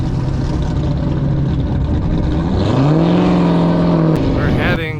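A built, supercharged 426 Hemi car with a big cam pulls onto a race track, its loud, lumpy idle rumbling steadily before revving upward and then dropping off near the end, with people talking underneath.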